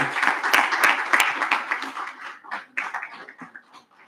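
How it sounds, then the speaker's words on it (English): An audience stands and claps to welcome a visiting delegation at an official gathering, a burst of applause that starts full and then thins into a few separate claps as it dies away. "let us stand up and clap for our brothers in South Africa for warmly welcome 3 times"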